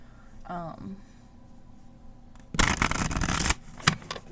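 A deck of cards is shuffled in one loud riffling burst lasting about a second, followed by a couple of short card snaps, after a brief faint voice at the start.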